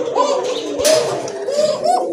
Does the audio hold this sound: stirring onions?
no